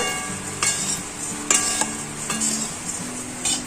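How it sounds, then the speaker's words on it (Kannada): Flattened rice (avalakki) roasts in a pan, dry sizzling under repeated stirring strokes, with several distinct scrapes and clinks of the spatula against the metal. "ಈ ತರ ಅವಲಕ್ಕಿನ ಚೆನ್ನಾಗಿ ಹುರಿಬೇಕು"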